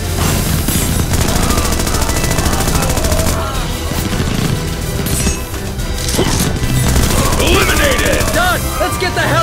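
Heavy gunfire in a bunker shootout in the video game Global Ops: Commando Libya, continuous loud bursts and impacts with crashing debris and a dense music and effects bed throughout.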